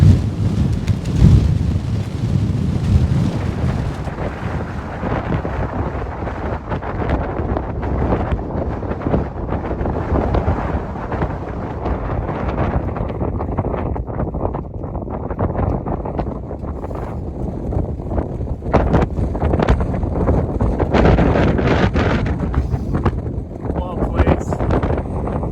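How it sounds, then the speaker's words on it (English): Strong, relentless wind roars across the microphone in the Scottish mountains near sunset, a constant, loud, buffeting rumble with gusty surges that never lets up. "This wind is just relentless"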